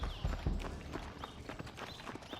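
Horse hooves clip-clop faintly in the western game Red Dead Redemption, a soft uneven run of hoofbeats with a couple of stronger thuds at the start.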